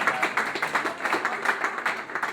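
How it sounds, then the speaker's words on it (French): An audience applauding at a presentation event, brisk continuous clapping from many hands with a steady rhythmic pulse, fairly loud and close. "Je vous demande d'applaudir Monsieur Valérie Joubeau"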